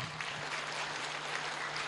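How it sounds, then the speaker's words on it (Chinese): A short, steady burst of audience applause, even and continuous for a couple of seconds with no voices on top. "鼓掌啊！"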